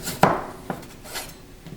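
A knife cuts vegetables on a cutting board while preparing Jamaican-style escovitch fish, with a few separate crisp taps spaced apart, close and fairly soft, and no talk.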